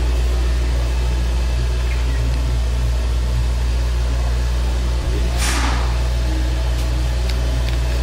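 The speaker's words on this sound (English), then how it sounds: "this is the huge pump and motor combination" A huge 480-volt pump and motor combination on a multi-gun variable pressure washer vehicle wash system runs with a steady, loud hum and broadband whir, constant throughout, with a brief hiss burst midway.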